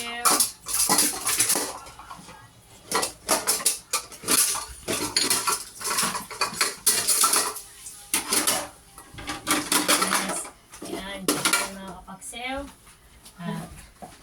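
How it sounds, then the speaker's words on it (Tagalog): Dishes and cutlery clatter and clink repeatedly as they are handled and set down in a rack, close by, with a person talking over the noise. "Patutuloyin muna natin yung mga pinggan natin bago natin ilagay sa lagayan"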